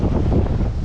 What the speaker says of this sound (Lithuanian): Vėjas kol kas nerims, bet bent jau baigęs krušą.